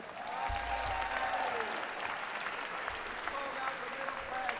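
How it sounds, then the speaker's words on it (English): An audience at a Manhattan Borough President's State of the Borough address breaks into sustained applause, a thick, even wash of clapping with a few faint voices and cheers mixed in, heard from a distance. "Let's give them a big round of applause."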